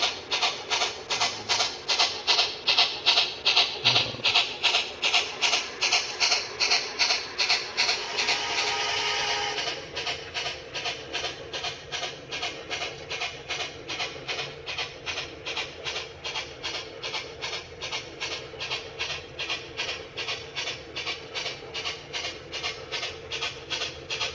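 Two reworked Rivarossi Allegheny model locomotives run on a layout, giving a steady, rhythmic mechanical clatter that is louder for the first ten seconds and then settles into a quieter, even beat.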